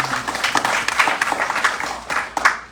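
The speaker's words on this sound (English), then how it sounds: "Please give her a big round of applause." Audience at a Ramayan Yagya religious gathering at Sudama Mandir clapping for a sponsor, a steady burst of applause with irregular claps filling the clip, moderately loud and close.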